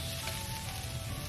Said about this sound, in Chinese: 倒入提前调好的料汁。